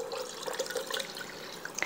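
Water is poured into a container while making Southern sweet tea, a faint, soft trickle and splash heard alone at a distance.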